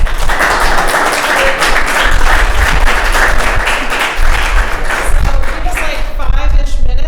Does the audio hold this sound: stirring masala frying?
no